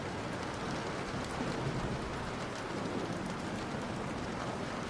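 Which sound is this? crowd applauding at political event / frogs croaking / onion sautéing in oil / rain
rain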